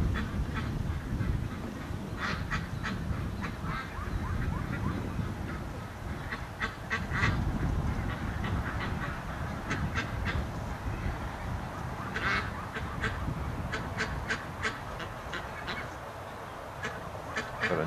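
Ducks quack and honk in agitated bursts at a lake, with Canada geese nearby, repeated calls rising over steady wind noise for the whole stretch, fairly distant.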